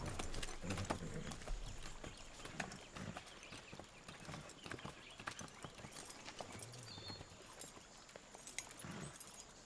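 Horse hooves clip-clop on the ground in the video game Far Cry 6, giving a rhythmic, fairly quiet series of hoof strikes over a soft ambient background.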